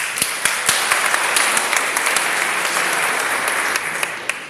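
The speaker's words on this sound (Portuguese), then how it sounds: "Aplaudam essa verdade." Audience applause filling a hall, dense and loud with sharp individual claps standing out, sustained for several seconds without talk.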